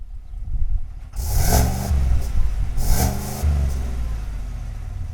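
A Dodge Durango SRT with a 6.2 liter V8 fires up after a quiet moment and is revved twice, each blip rising to a loud, deep roar before settling back into a throbbing idle, heard close and alone.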